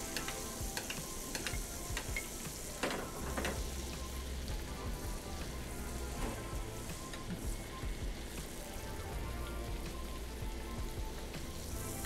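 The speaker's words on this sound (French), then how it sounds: "Donc on va arroser gentiment notre viande." Peppered steak sizzling in a pan while being gently basted with its cooking fat, for steak au poivre: a dense, steady crackle like light rain, with soft spoon taps and no talking.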